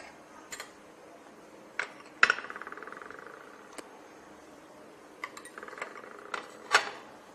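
A spoon tapping and scraping against a bowl while cucumber is mixed into peanut chaat, a few sharp clinks followed by short bursts of soft stirring, close and fairly quiet.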